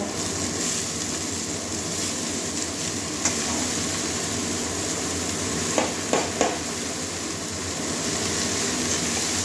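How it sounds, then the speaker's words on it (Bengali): Cabbage, potato, carrot and capsicum stir-fry in a pan, with a steady sizzle throughout and a few sharp scrapes and clinks of the spoon against the metal. "এবারে বাঁধাকপির সঙ্গে ভালো করে আবার সব কিছু মিশিয়ে নেব।"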